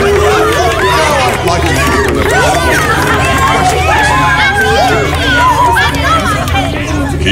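Dense crowd murmuring in Minecraft: Story Mode, a loud continuous babble of many overlapping voices filling the whole span, close and busy.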